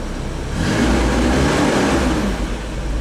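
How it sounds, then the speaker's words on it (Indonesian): A car engine running at low RPM with a reported knocking or pinging fault, a steady close mechanical drone that swells briefly in the middle, with no talking. "nanti kita akan dengarkan bersama-sama ada bunyi ngelitik yang sangat tidak enak sekali di telinga kita"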